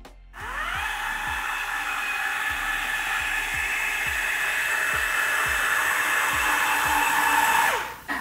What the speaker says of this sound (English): So this would be the fast speed.